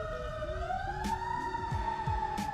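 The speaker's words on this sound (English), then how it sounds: "sirens going off in the backgrounds" A wailing siren rises and holds steady in the distance in Los Angeles, sustained under low city traffic rumble throughout.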